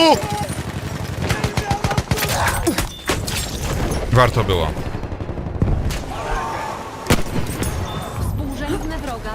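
A powerful weapon fires in the Battlefield 1 video game: loud, rapid automatic bursts and heavy booming blasts over several seconds, with a voice speaking briefly.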